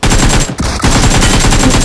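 Rapid gunfire in a video game, a loud dense burst of repeated shots with a brief break just past the midpoint before the firing resumes, with no talk over it.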